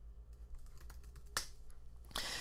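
Computer keyboard typing while entering note text in the Evernote app, with scattered soft keystrokes, a couple of sharper clacks and a low steady hum underneath, no talking.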